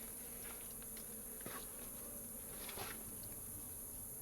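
Wild honey bees hum at an open hive during a honey harvest, a dense continuous buzz with a few louder passes close by.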